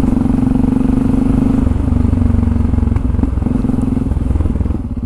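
A new Yamaha motorcycle being ridden gives a loud, steady engine drone with a pulsing low rumble, close up and continuous, the pitch shifting slightly as the rider eases along.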